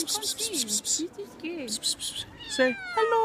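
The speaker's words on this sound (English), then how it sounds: "This is my cat." A house cat meows repeatedly at close range in short, rising and falling cries, while a person talks over it.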